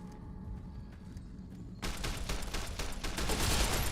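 A grenade blast in Fallout: New Vegas, Lonesome Road DLC, erupts after a quieter stretch into a loud, sustained crackling burst of gunfire-like bangs that keeps rolling to the end.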